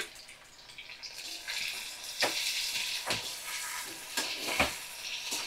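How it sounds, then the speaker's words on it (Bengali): Whole spices with cumin paste frying in a pan over medium-high flame, a steady soft sizzle broken by a few sharp scrapes of stirring, close and fairly quiet with no voices. "তো ভালো করে আমি কষিয়ে নিচ্ছি মশলাগুলো, সমস্ত মশলাগুলো দিয়ে।"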